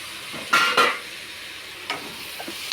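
Mashed tomato drops into a hot pot of spiced dal on the stove, giving two quick splattering hits followed by a light scrape of stirring and faint sizzling.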